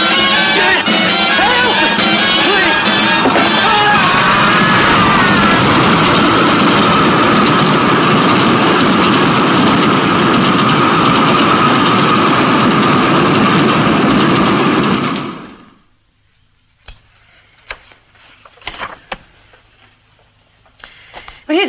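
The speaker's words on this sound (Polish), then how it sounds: "Jedzie pociąg." A train rumbles past loud and close with rhythmic clickety-clack of wagons and a heavy engine for about fifteen seconds, then cuts off abruptly into near-silence broken by faint scattered knocks.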